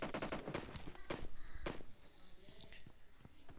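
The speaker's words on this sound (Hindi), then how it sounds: "सामने से कुछ साउंड आ रही थी गन की" Rapid gunfire bursts crack through a video game match, sharp and fairly close, mixed with footstep-like thuds and faint tones, while someone talks over it.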